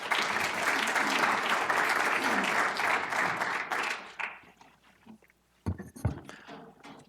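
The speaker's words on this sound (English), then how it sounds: "let's have a round of applause for our first speaker of the night" Audience applause for a speaker at a migraine surgery talk: dense, steady clapping from a crowd for about four seconds, then thinning out to a few scattered claps and quiet room noise.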